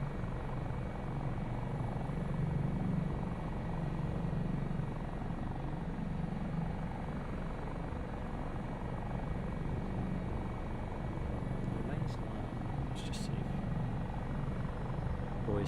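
A Dauphin helicopter engine in Microsoft Flight Simulator drones on steadily at a close, even level, a continuous low rumble with rotor throb that persists unbroken throughout.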